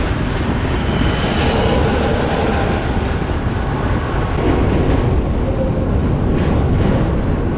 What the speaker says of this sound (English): The tram is pretty noisy.